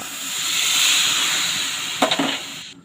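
Water with chili and coriander powder heats in a pot and gives a steady, loud hiss that swells and fades, followed by a few brief knocks near the end.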